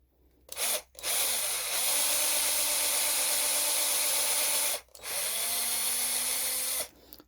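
A handheld power drill bores into 3D-printed plastic in two sustained close whining runs, each several seconds long, separated by a brief pause as the bit is pulled out.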